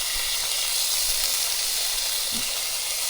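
Minced garlic and chopped jalapeños cook in a hot pan with a steady, close hiss and sizzle that holds evenly throughout, with no voices over it.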